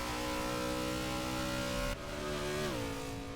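Race car engines drone in Forza Motorsport 6 during an online race, a loud, steady buzzing note that drops in pitch twice, like gear changes or lifting off, heard alone without commentary.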